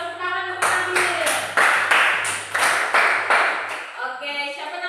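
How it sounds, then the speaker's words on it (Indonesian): A year-12 classroom of students gives a fellow student a round of applause, clapping in a rhythmic group beat of about eight strong claps. The clapping is close and punchy, with voices and chatter around it. "tepuk tangan untuk Nabil."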